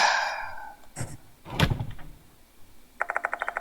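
A door rattles and thuds shut in the Spirit Hunter: Death Mark II video game, with a sharp knock, a heavier thump, then a quick run of rapid rattling clicks at the end.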